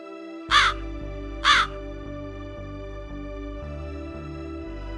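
A crow gives two sharp, harsh caws about a second apart, laid over a steady, droning background bed in a narrated Hindi children's story.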